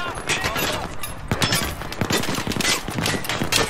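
Rapid gunfire bursts and explosions from the video game Battlefield 4 on PS4, dense and continuous with loud sharp impacts throughout, while someone talks over the action.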